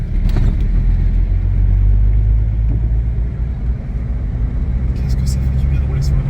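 A car driving on a paved road near the Guinea-Bissau and Guinea border gives a steady, loud low engine and tyre rumble throughout, with people talking inside.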